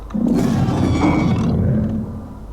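A loud, deep creature roar from the game Creatures of Sonaria, a Buff Eulopii, rumbles steadily for about two seconds, growling and sustained, then fades out at the end.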